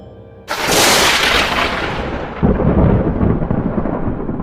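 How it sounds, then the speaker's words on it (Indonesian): A sudden loud thunder crash breaks in, then rolls on as a deep rumble, with a second swell of rumbling midway through. "Petir iblis merah membelah langit."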